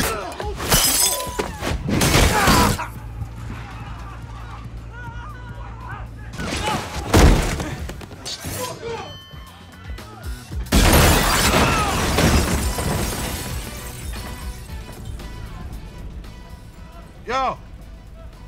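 A car, a Riviera, smashes into a restaurant, bringing loud crashes and glass shattering in several heavy bursts, followed by rumbling debris and voices talking over the chaos.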